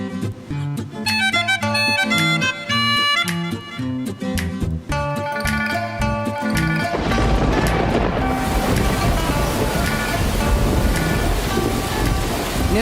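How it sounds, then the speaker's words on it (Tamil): Heavy rain pours in a comedy film scene, a dense steady hiss that rises out of music and then fills the sound alone, loud and continuous. "இங்க மழை தானே வந்தது"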